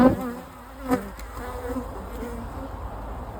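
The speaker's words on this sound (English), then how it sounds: "the bees are now getting annoyed." Honey bees buzzing close by during a honey harvest as capped frames are lifted from the hive, a dense, agitated hum with brief louder swells as individual bees pass near.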